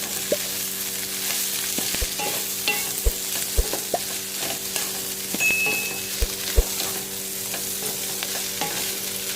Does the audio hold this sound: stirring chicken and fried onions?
yes